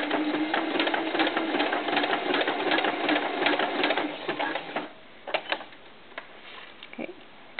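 Sewing machine stitching a knit tank top for a doll, a fast, steady mechanical whir for several seconds, then stopping, followed by a few soft clicks and handling taps, close by.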